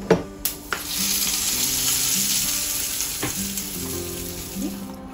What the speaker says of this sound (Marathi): गरम तडका मी याच्यावर टाकते।